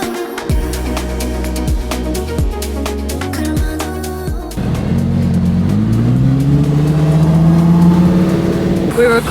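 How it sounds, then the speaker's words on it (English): A car accelerates past on a busy road in Japan, its engine note rising loudly and close after a stretch of other traffic and passing vehicles. "Vian heard a car and went, "That's a hurricane.""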